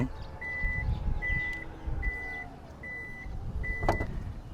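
A Toyota Fortuner Legender's reversing signal beeps five times at a steady rhythm over a low mechanical hum as the power tailgate closes, ending with a sharper clunk.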